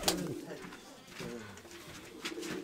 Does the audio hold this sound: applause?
no